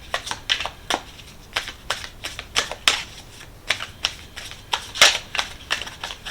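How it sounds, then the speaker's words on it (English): Dice rolled on a table, giving a long series of sharp clicking and clattering bursts, irregular and close, each rattle quickly dying away, with no talking. "let's roll some dice for when."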